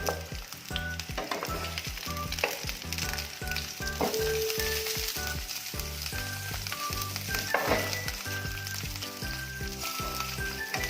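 Chicken pieces frying in butter for a chicken mandi, a steady loud sizzle running throughout with a rhythmic pattern of stirring or pan movement and occasional utensil clinks, no talking.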